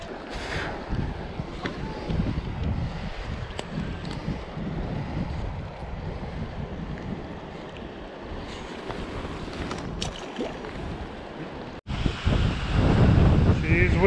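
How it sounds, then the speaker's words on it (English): Strong gusting wind buffets the microphone throughout on a mountain trail near Mirror Lake in Rocky Mountain National Park, a steady roar with louder bursts near the end, with faint voices underneath. "She's windy, folks."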